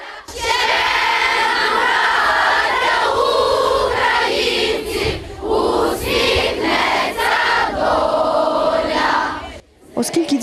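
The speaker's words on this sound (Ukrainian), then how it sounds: "У великому натовпі дітей хтось починає співати, а решта підхоплює." A large crowd of schoolchildren sings together in an outdoor gathering, loud and sustained, with voices swelling and dipping in waves before breaking off near the end.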